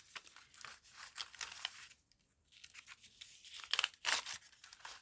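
Paper being trimmed for a trash-craft envelope multipocket, with close crinkling, rustling and crisp cutting snips, a brief quiet pause midway, then sharper paper crackles.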